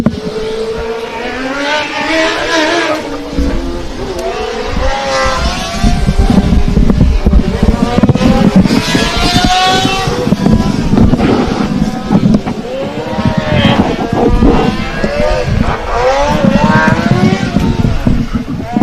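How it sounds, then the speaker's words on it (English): Formula Student race cars at an endurance event, driving hard and drifting on track, their engines revving and whining in loud rising and falling sweeps, several passes close by, with wind buffeting the microphone and occasional talk underneath. "the sound of these cars is really amazing"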